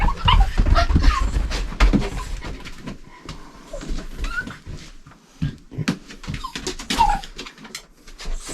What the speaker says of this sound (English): the dog's a bit worried about what's going on